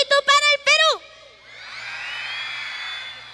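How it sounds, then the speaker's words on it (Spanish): A live concert crowd at a Lima anniversary show shouts and cheers for Peru, a sustained swelling roar that follows a few sharp shouted calls from a singer up front. "¡Un grito para el Perú!"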